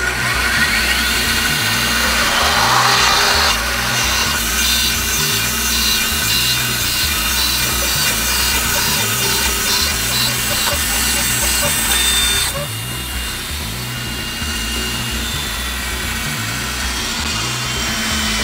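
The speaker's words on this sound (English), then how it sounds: "But we have a band saw, so that's what we're going to use." A band saw cuts through wood for a DIY tile installation, a loud continuous mechanical drone with a steady motor hum and the rasp of the blade running under it, easing off slightly near the end.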